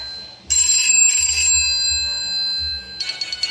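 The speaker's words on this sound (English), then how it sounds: "This is the default ringtone." Default ringtone of an Android smartphone, a bright, electronic melody of repeating tones played loudly with no talking, with a short pause before the tune starts again near the end.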